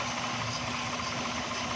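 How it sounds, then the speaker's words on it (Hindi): A Toyota Corolla XLi engine running on CNG idles with a steady, rough, vibrating drone and a missing, uneven pulse, heard close and alone. "अब गाड़ी को स्टार्ट करेंगे।"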